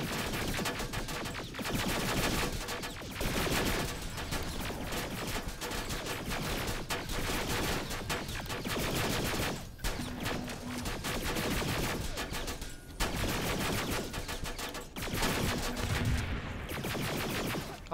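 Sustained automatic gunfire in the video game Terminator Resistance, dense rattling volleys nearly continuous for the whole stretch with a few brief gaps, loud and close.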